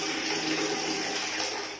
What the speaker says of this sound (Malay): Sekarang air dia keluar kuat ni je.